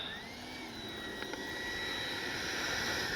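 A Freewing F-22 RC jet with a 90mm ducted fan passes in flight, a continuous whining rush with rising tonal whistles that grows gradually louder across the stretch.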